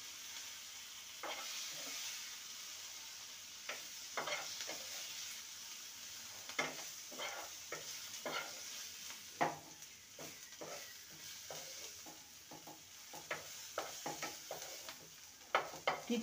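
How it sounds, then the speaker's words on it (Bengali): Tomato and onion fry in a pan under a soft, steady sizzle, with repeated scraping and clinking strokes of stirring spread unevenly across the whole stretch and no talking. "টমেটো আর পেঁয়াজকে 3 থেকে 4 মিনিট ভেজে নিয়েছি"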